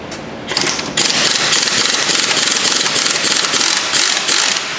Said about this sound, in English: And I take my impact gun and see if we can get it out.